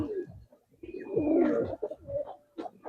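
Pigeons coo close by in low, rolling, throaty phrases, with a couple of short whistle-like notes over them, in a loft where Giribaz and coloured pigeons are kept.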